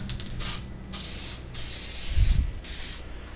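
An aerosol spray adhesive hisses in several short bursts of varying length as it is sprayed around the edge of a piece of foam armor padding, close by and separated by brief pauses, with a low thump near the end.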